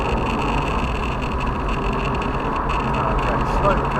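An Aston Martin DB9 driven hard around a race track, its engine a steady, loud drone from inside the cabin, heard with road and wind roar throughout.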